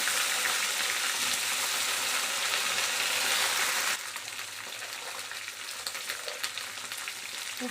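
Curry leaves and cut brinjal fry in a pan for a Tamil brinjal kara kuzhambu, a loud steady sizzle that drops to a softer crackle halfway through, with no voices over it.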